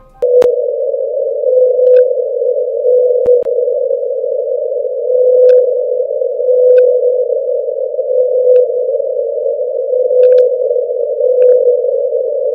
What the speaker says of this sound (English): It's of a blue whale with a weird high voice